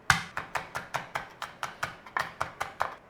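Knife chopping garlic on a board gives a steady run of about thirteen crisp, evenly spaced chops, close and clear, with no voice.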